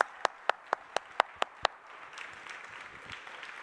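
Seven sharp, evenly spaced claps ring out at a conference session, then give way to faint, scattered audience applause.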